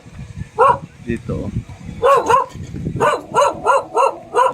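A dog barks in a rapid series of sharp, close barks near a guest house in Davao City, mixed with a few whimpers, while a person talks over the start.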